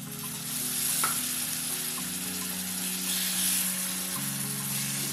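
Tomatoes sizzle and fry in a pan for a spicy masala egg fry, a loud, steady crackling hiss that runs without a break and sits close to the listener.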